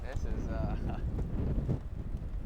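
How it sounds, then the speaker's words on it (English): A strong gust of wind buffets the microphone at an outdoor college baseball game, a steady low roaring rumble while a voice talks over it. "Strong gust of wind now."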